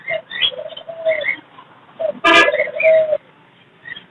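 Fancy pigeons, a large Lahori Sherazi breeder pair, cooing at a busy Friday bird market, several close, clear low coos with a brief honk-like burst from the surroundings between them.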